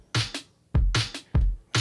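Layered snare hits in a chugging, vintage-flavored Christmas song mix, four sharp broadband cracks with short bodies, spaced roughly every half second, dry and upfront with no other instruments.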